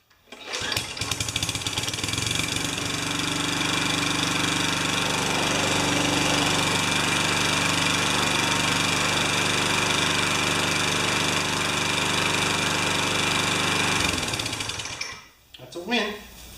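A Tecumseh small engine starts after priming and runs steadily, a loud close buzzing drone held for about fourteen seconds before cutting out and leaving brief clatter.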